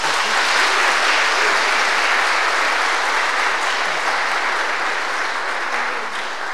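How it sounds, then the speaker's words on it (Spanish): A church congregation at a Spanish-language Sunday Mass applauds after a baptism. The clapping is steady, dense and loud, filling the whole stretch with no voices heard. "Un aplauso."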